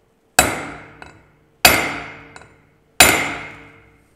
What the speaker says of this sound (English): I'm going to give it three hard strikes. And again with